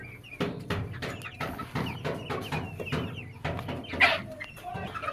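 Three-and-a-half-month-old chickens on a small farm cluck busily while eating scattered wheat and rice, making a close, overlapping run of short, repeated calls with a sharper squawk near the end.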